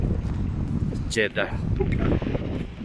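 Steady wind rushes across a rooftop in Jeddah, Saudi Arabia, on an overcast morning, buffeting the microphone throughout while someone speaks over it.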